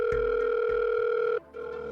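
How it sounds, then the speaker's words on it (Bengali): A landline telephone rings in an animated cartoon scene, giving a loud, steady electronic tone that cuts off briefly and then resumes. Soft clicks mark the start. "মাসি ল্যান্ডলাইন থেকে ফোন করছে কেন?"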